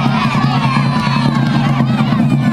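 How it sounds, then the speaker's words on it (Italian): Crowd cheering and shouting at a knights' lance challenge, a dense, loud, continuous roar of voices with rhythmic chanting rising and falling throughout. "Forza, sentiamo il tifo"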